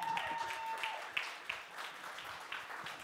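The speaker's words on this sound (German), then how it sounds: "Applaus für dieses wunderschöne Auto!" Faint, scattered audience clapping follows the unveiling of an Aiways U6 ion electric car at its German premiere, a thin patter with a few distinct claps and some talk underneath.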